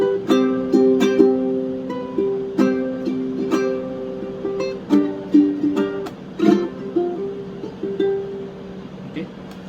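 Fingerstyle ukulele melody of a Tamil song, with single plucked notes and short repeated phrases ringing clearly at close range, played alone.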